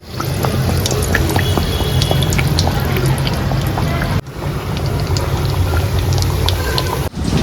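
Breadcrumb-coated chicken patty frying in oil, a loud close crackling sizzle with bubbling pops throughout, briefly interrupted twice by short cuts.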